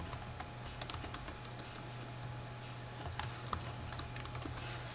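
Keys tapped on a computer keyboard while a password is entered during a RetroPie install on Ubuntu, a quick irregular run of light clicks, fairly close and quiet over a steady low hum, with no talking.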